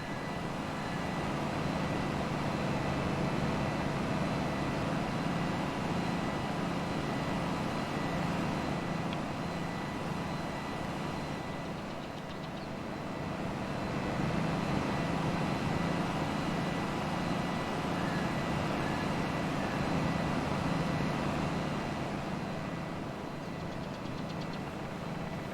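A Big Bud tractor of 1100 horsepower in Farming Simulator 22 labours uphill, its engine a steady loud drone with a low, rough knocking undertone that dips slightly midway and returns, continuing throughout with no talk.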